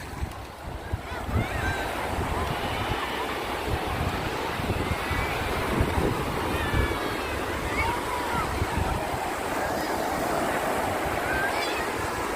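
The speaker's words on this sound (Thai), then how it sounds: "ชายหาดทะเลน้ำใสนะครับน้ำใสขึ้นแรงดีมากนะคน ส่วนใหญ่ที่มาพักผ่อนวันเสาร์อาทิตย์ก็จะมาเล่นโต้คลื่นอย่างเงี้ยนะฮะโอ้โหคลื่นแรงมาก" Strong surf rolls in at Nam Sai beach in Sattahip, a continuous broad wash of breaking waves with wind buffeting the microphone and faint voices underneath.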